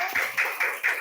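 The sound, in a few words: classroom applause for a student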